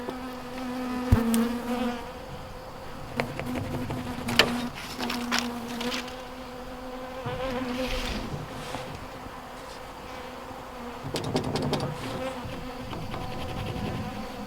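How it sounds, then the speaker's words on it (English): Bees buzz around horizontal beehives in a fairly quiet outdoor setting, individual insects droning close past at intervals while a softer hum of others lingers in the background. "Still quite a few bees around me and you."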